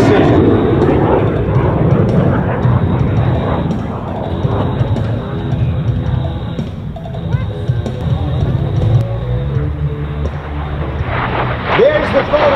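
A Lockheed T-33 jet roars past on a photo pass at the 2015 Oregon airshow, a loud broadband engine rush that swells and fades, with a commentator talking over it.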